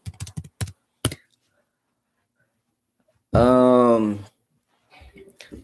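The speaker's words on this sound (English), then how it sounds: "I'm going to type it in right now" A website address typed on a computer keyboard: quick bursts of close key clicks, then a pause, a short spoken word, and a few more taps near the end.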